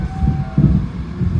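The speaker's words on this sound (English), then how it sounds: "I think the train is going to come to a stop here." The Pikes Peak cog railway train grinds along uphill at Windy Point during a snow blizzard, a loud, steady low rumble of wheels and motor mixed with gusty wind for a brief moment.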